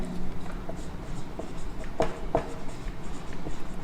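A pen writes notes on paper during a biology lesson, a soft continuous scratching with a couple of sharper taps, heard close under a low room hum.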